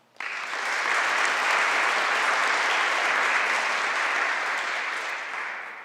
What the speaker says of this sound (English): Let's give one more round of applause to all of our National Junior Honor Society candidates